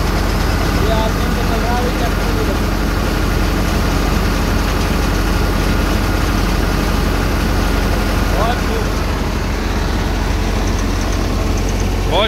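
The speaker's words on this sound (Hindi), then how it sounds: "अभी गेहूँ निकाले जा रहे हैं ट्रैक्टर से" Tractor engine driving a wheat thresher during harvest produces a loud, continuous low rumble with machinery clatter layered over it, steady and close for the whole stretch, with no pause in the drone.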